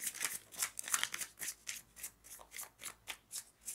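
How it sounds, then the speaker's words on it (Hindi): Tarot cards being shuffled by hand, a soft quick rhythmic riffling of about a dozen brushing strokes, close and quiet with no talking. "Shuffle, shuffle, shuffle."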